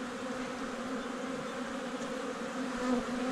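Dense, steady buzzing of many honey bees swarming around an open beehive during an inspection, close and continuous without pause.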